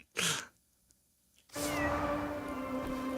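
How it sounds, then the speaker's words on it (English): A cat in the video game Crimson Desert gives a short, close meow, followed by a pause and then a steady bed of game ambience and music. "Where's the cat? I hear a cat meowing."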